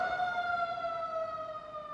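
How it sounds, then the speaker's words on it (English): Fire engine sirens wail steadily, a faint sustained tone holding at a slowly drifting pitch, heard from a distance with no other clear sounds. "You could hear fire engines wail through the crackling of the wood."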